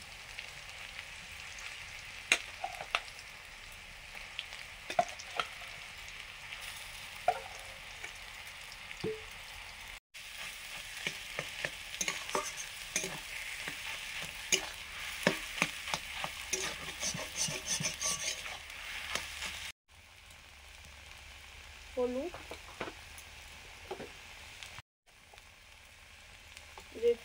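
Potatoes and onions frying and being stirred in a pan for an egg curry with aloo paratha, a steady close sizzle broken by repeated rasping scrapes of the spatula.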